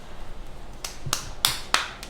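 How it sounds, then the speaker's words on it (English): A child claps hands: a handful of sharp, separate claps, roughly four or five in an uneven rhythm, close and moderately loud over a quiet indoor background with no talking. "you clap for yourself"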